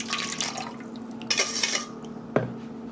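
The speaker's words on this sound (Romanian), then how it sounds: "Mai adaug 400 ml de apă." Water is poured into a potato dough mixture for homemade pizza, giving brief splashing bursts with clinks of a bowl or utensil, close and fairly soft, with no talking.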